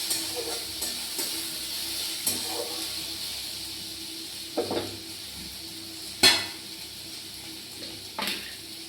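Potatoes frying in a pan, a steady sizzling hiss with occasional utensil scrapes and clinks against the pan.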